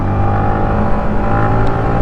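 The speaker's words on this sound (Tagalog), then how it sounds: "this bike loves open roads, since as I mentioned, this bike prefers to be rev high" A Yamaha MT15 motorcycle engine holds at high revs, a loud, close, steady droning whine with a smooth, unbroken tone and no speech.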